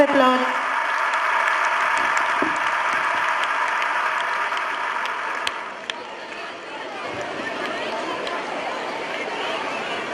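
At a school sports meet, parents give the race winners a long, sustained round of applause, a broad steady clapping that carries on for about ten seconds, with crowd chatter underneath.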